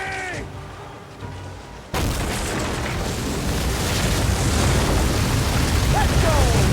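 Ship cannons firing during a naval battle in the video game Assassin's Creed Origins, a sudden heavy blast that gives way to a sustained roaring rumble of explosions and debris, loud and close, with shouting voices beneath.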